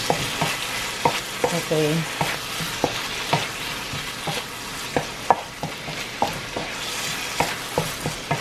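Beef and string beans stirred in a sizzling pan, with a spoon scraping and knocking against the pan in an irregular rhythm over a constant frying hiss, close and moderately loud; a brief word is spoken.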